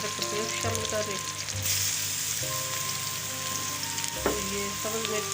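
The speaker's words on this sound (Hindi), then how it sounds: "अब मैं ये लहसुन अदरक का पेस्ट शामिल कर रही हूँ," Garlic and ginger paste sizzles loudly in hot oil, a dense crackling hiss that flares as the paste goes in, with occasional stirring knocks and light background music.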